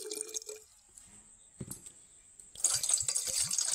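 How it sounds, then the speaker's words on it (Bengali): Water pours from a bottle into another bottle, first with faint drips, then as a close gurgling stream with rising glugs. "এই বোতলেরই কিছুটা জল দিয়ে দেবো, অর্ধেকের একটুখানি কম, ঠিক এরকম জায়গা থেকে জলটা দিয়ে দেবো।"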